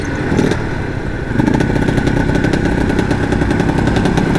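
Yamaha TZM motorcycle engine revving under throttle, a loud, continuous two-stroke buzz that steps up in intensity after a brief dip and holds steady at high revs.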